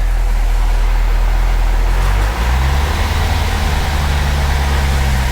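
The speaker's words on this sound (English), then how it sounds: "I'm not sure if that's normal valve train noise or not." A car engine runs loud and close, its steady idle rising into revs with a busy mechanical ticking layered over the low rumble.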